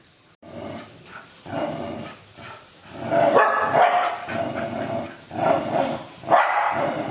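A dog barks repeatedly nearby in short bursts, with whimpering yips between the louder barks.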